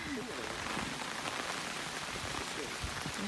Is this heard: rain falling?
yes